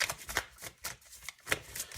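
Tarot cards are shuffled by hand in quick bursts of crisp riffling and soft slaps, repeating in an uneven rhythm at close range and moderate volume.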